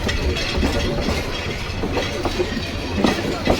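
The Lalmoni Express meter-gauge train pulls out of Santahar railway junction, heard from on board as a loud, steady rumble with rhythmic clickety-clack of wheels over rail joints and occasional knocks.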